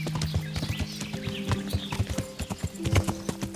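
Horse hooves clip-clop at a steady walking pace in the medieval game Kingdom Come: Deliverance, close and distinct, with layered game ambience and occasional higher tones behind the rhythmic beats.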